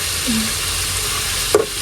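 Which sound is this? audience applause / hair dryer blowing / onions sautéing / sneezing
onions sautéing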